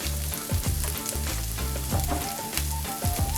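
Carrots and onions fry in a spice paste in a pan, giving a steady sizzle with stirring clatter and faint background music, and no one talks.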